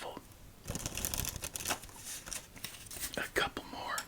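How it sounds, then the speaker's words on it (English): Playing cards are shuffled for a game of solitaire, with soft riffling and crinkly snaps close to the mic, under a quiet whispering voice. "Let's give it one more shuffle."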